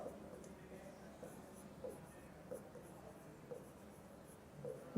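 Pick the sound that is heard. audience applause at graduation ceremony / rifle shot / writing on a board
writing on a board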